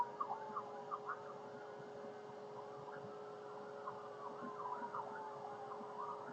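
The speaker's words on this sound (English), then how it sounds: "Sorry about the ambulance and fire, and that's pretty loud." Ambulance and fire engine sirens wail outside, their rising and falling tones steady and moderately distant, sounding continuously throughout.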